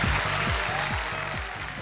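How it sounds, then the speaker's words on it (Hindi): A television quiz-show studio audience on KBC claps softly and unevenly, a light, continuous patter of hands heard up close with no voices over it. "ज्यादा ताली जोर से बजा नहीं रहे हैं।"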